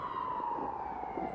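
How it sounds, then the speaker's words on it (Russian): An ambulance siren wails steadily in the distance on a sunny outdoor street, faint and continuous with no talk over it. "скорая помощь, вон она. Поехала."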